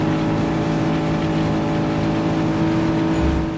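Car drifting in the video game Just Cause 3, a steady, loud engine drone with layered harmonic whine held throughout, without any speech.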